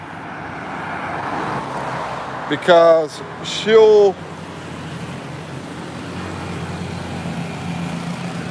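Motorcycles and street traffic rumble along a road in the Philippines, with a steady traffic hum and two short, loud revving engine bursts passing close by, while someone talks over the noise.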